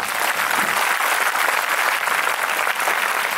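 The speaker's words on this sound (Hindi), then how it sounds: "किया उसके लिए ताली बजा दो" Steady, dense applause from a congregation at a spiritual awakening gathering, a continuous even wash of clapping hands throughout.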